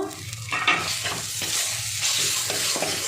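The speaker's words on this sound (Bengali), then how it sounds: "এক চামচ রসুন বাটা এক চামচ আদা বাটা একটু মিশিয়ে নেব" Garlic and ginger paste is stirred through hot oil in a frying pan, giving a continuous close sizzle with rhythmic scraping strokes of the spoon and no talking.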